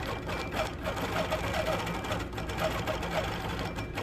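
Stitch-regulated sewing machine doing free motion quilting, a steady continuous rapid needle hum running at an even pace throughout with no breaks.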